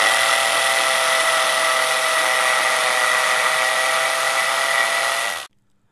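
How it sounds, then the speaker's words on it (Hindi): A Buildskill Pro BGSB13RE 13 mm impact drill runs in hammer mode on brick, a loud, steady, high whining buzz for about five seconds that then cuts off abruptly. "अब मैंने हैमर मोड पर डाला है और अब इसकी स्पीड देखी"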